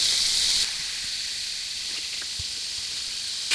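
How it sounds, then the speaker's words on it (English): Bacon for Southern style fried cabbage sizzles in a pan, a steady close hiss with a few faint pops, louder at the very start and end and alone without talking. "We're going to cook that bacon."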